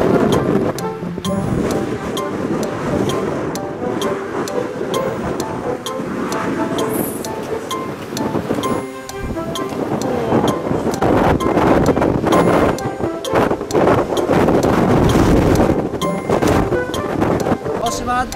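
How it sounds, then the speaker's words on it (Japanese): Strong gusting wind roars over the microphone outdoors at the 6 km point of a 15 km hike, a loud continuous rumbling buffet that swells and eases, with people talking beneath it. "6キロポイント風が強い"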